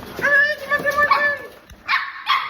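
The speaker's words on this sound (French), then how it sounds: "Oh non, les chiens sont là." Dogs bark in several sharp, close bursts, then a brief pause before two more loud barks, with a voice speaking around them.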